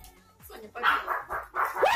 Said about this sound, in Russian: Это моя собака.